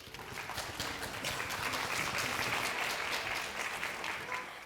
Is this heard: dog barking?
no